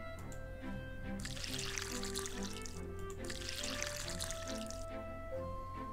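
Water pouring in two steady bursts while plants are watered in a video game, set over a continuous tonal music bed.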